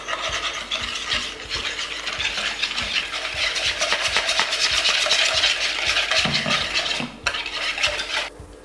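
Tempura batter mix being stirred with cold water in a bowl, a fast, continuous scraping and clinking of a utensil against the bowl for several seconds, close and fairly loud, with a brief pause near the end.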